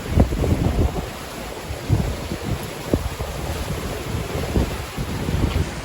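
Strong wind roars across the microphone while waves crash and surge around a sailing boat heeling at speed in about 30 knots of wind off the Bahamas, a loud, continuous, gusty wash with repeated splashes and no talking.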